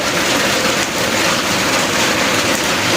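Steady, dense rainfall hisses evenly and loudly close by, an unbroken wash of drops on surfaces in a rural Thai setting, with no voices over it.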